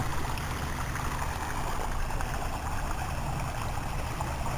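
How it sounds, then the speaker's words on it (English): Water splashes and rushes steadily, a constant broadband wash of a small garden waterfall spilling into a wildlife pond, with no voices. "The sound of the waterfall can be designed so that it can block out sound in your neighborhood."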